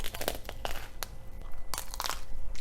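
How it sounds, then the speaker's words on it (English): Crunchy bites into the hard caramelized shell of a vegan creme brulee donut, several sharp close crackles and crumbles in quick succession with no talking. "Shell, super crunchy, which is what I like."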